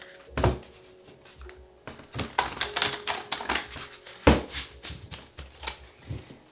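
A tarot deck is shuffled by hand over and over, giving bursts of crisp, riffling card clatter and soft taps that come in irregular clusters, close and fairly loud, with no talking.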